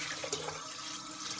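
Sushi rice being washed in water, a close, steady sloshing and trickling of water over grains for a brief moment.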